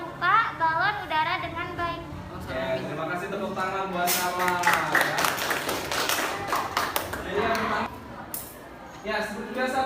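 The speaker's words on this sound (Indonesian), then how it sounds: "tepuk tangan buat Sama ya" Classroom students applaud together, a burst of dense clapping that rises in the middle and then fades, with voices talking over the start and end.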